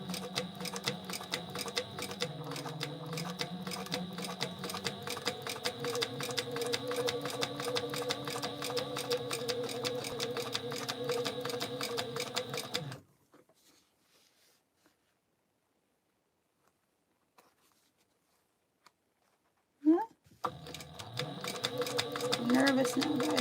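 A sewing machine stitches a notebook cover in a steady rapid whirring chatter for several seconds, stops into near silence, then starts running again with a faint voice between.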